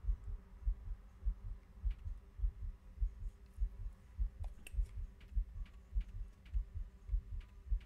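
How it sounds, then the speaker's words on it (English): A steady, dim heartbeat thumping in a spooky video game, low and rhythmic throbs repeating about twice a second beneath faint clicks and hum, with no talking. "I hear a heartbeat."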